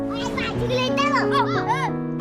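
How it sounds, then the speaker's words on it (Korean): Children splash and play in a murky, limestone-clouded stream beside a village in Kampot, Cambodia, their high voices calling out continuously over a steady tonal drone. "석회질이 섞인 뿌연 물에서 물놀이를 즐깁니다"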